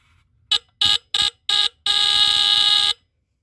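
A Tanita Mfg. Co. No. 2 heat-activated fire alarm rings loudly and close by, giving four short shrill buzzing bursts followed by one sustained ring of about a second before cutting off.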